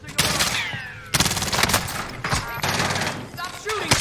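Automatic gunfire from a Call of Duty Warzone match, loud bursts of rapid shots starting and stopping in quick succession, with voices talking over the battle.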